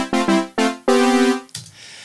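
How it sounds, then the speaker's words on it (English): A clean, unprocessed synth brass patch plays a few short stabs followed by a longer held note, bright and buzzy with strong harmonics, loud and close with no voice. "I have a synth brass here."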